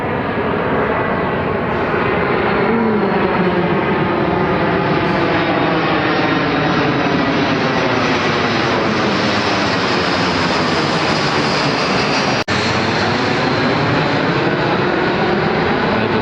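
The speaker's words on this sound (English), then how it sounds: "Here comes the plane." A loud airplane roars overhead, its engine tone sweeping downward in pitch as it passes and slowly recedes; no one speaks.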